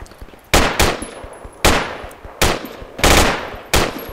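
Machine gun fire in the military shooter game Project Reality rings out in six sharp, loud bursts with short gaps between them, each burst a rapid volley of shots, with no talking.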